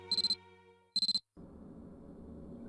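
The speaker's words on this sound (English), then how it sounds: "The alarm on my cell phone sounded, as if in answer." In the Corpse Party: Book of Shadows game, a cell phone alarm rings in two quick bursts of rapid high electronic beeps, then gives way to a low ambient hum.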